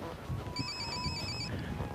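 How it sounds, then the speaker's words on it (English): A cell phone ringtone chimes out in a remote stretch of desert along the Silk Road in China, giving one short electronic ring of bright tones above a low, rumbling background. "Is that one of the guy's cell phones?"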